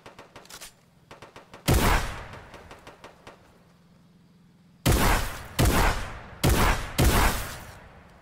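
Video game gunfire: loud, close shots in short bursts, a sharp blast, then a cluster of four rapid reports near the end, separated by quieter stretches of faint clicks and background hum.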